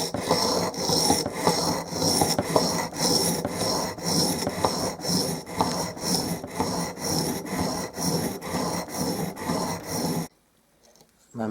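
A chisel is sharpened on a wheel with steady rhythmic scraping strokes, close and continuous for about ten seconds before stopping abruptly.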